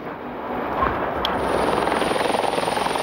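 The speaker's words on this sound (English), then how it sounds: "Like clockwork, every 5 minutes a helicopter lands, bringing refugees from the flood." A helicopter landing while carrying flood refugees, a steady close rotor roar with a rhythmic chop that grows stronger toward the end and continues throughout.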